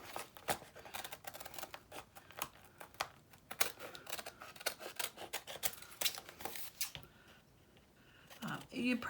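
Scissors snip around the outside edge of a paper craft tag in a run of close, crisp cuts and faint paper rustles, with a brief louder handling noise near the end.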